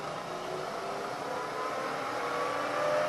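A milling machine spindle turning at 1,000 RPM gives a steady, even whir with a faint tonal hum, constant and unbroken for a few seconds, with no voices.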